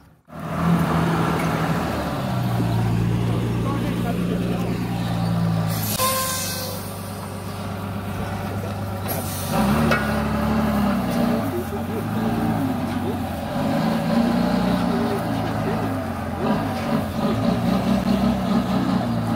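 A cattle truck's diesel engine idles and shifts as it pulls into position to be loaded, a low steady rumble with a brief hiss of air brakes partway through, heard close by under occasional voices.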